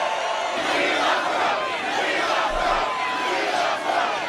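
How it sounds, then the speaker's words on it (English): Large political rally crowd in New York cheering and shouting continuously, a loud, dense roar of many voices sustained throughout with no single speaker standing out. "What a crowd."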